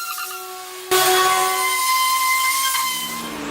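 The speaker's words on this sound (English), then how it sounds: "So here I'm just sanding down all the sharp edges all the way around." A high-pitched power sander whines steadily as it rounds over sharp edges of bare wood. It cuts in abruptly, grows louder and harsher as it grinds against the wood, then eases slightly near the end.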